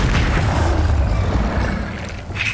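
A Bombarda explosion spell bursts in Hogwarts Legacy, a dense low boom with rumbling crackle that fills the moment at close range, fading slightly toward the end with no voices.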